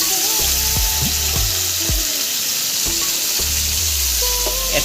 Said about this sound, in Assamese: এতিয়া মাংসটো আমি দি দিছো মিঠাতেলত দি দিছো